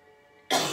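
A single sharp, close cough bursts out abruptly after a near-silent pause, from someone doing beginner yoga while sick.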